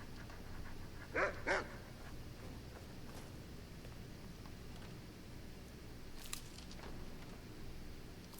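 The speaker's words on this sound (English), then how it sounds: "It's the doggies." A pair of quick, bright dog barks in the Skyrim video game ring out early over a low, steady background hum, followed by fainter scattered yips later, with no talking.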